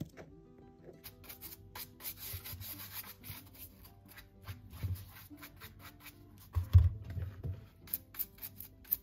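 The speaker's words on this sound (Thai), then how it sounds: "แค่ปัดฝุ่นออกนิดหน่อยค่ะ" Wild forest mushrooms being lightly brushed clean of dust and debris, producing soft, close rubbing and scratching strokes in an irregular rhythm, with a slightly louder flurry near the end.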